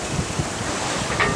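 Strong wind rushes across the microphone at sea aboard a sailing boat during a regatta in the South Ionian, a loud, continuous gusty roar with water noise mixed in.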